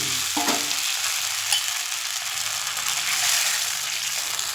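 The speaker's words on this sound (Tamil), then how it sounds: "நல்லா வதங்கிருச்சு பாருங்கள். வெங்காயம்" Onions sautéing with curry leaves in a pan for a tamarind curry give a steady, close sizzle, with a few scraping stirs near the start and no talking.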